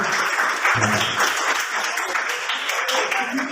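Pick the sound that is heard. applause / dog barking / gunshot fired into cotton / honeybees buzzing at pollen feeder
applause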